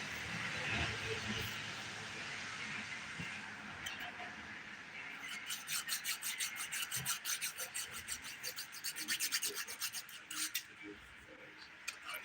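Halloween nails being filed with a nail file: a quiet stretch of soft rubbing, then a close, rapid run of short rasping strokes in an even rhythm that grows louder toward the end.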